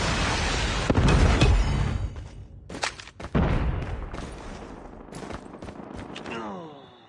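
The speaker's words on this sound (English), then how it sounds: "Predator missile inbound." Predator missile strike in the mobile game Call of Duty Mobile, heard as a loud close blast and rumbling explosions mixed with gunfire, followed by a fading hiss and trailing noise.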